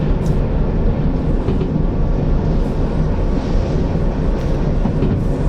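A DE6 diesel locomotive in the Derail Valley video game rolls downhill and gathers speed, giving a steady, loud, continuous rumble with rail noise and no talk.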